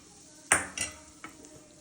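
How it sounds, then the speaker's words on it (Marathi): Melted ghee is poured and a mixture stirred in a metal pot, giving a sharp clank of utensil on pot followed by a few softer scraping knocks close by. "आणि मिश्रण ढवळून घेऊया छान."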